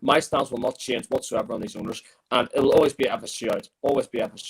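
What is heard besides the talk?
No distinct noise like a dog, phone or traffic.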